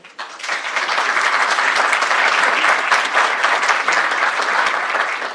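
A conference audience in Mexico breaks into loud, dense applause that swells quickly and holds steady as a continuous wash of many hands clapping together.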